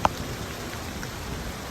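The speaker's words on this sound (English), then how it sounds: "Here's a video of my rain tank in action." Steady rain pours into a clear rainwater tank covered with earth and plaster in a residential permaculture garden, a continuous close hiss and patter with one brief knock at the start.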